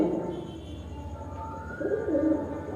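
Pigeons in a shop selling birds and aquarium fish coo in low, throaty rolls, one faint call early and a louder warbling coo near the end, close by over a steady room hum.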